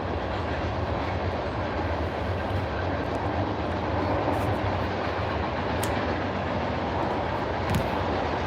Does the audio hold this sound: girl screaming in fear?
no